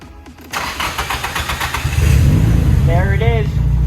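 A Nissan Silvia S14 engine cranks with rapid ticking, then catches and settles into a loud, rumbling idle up close, with a voice speaking briefly over it.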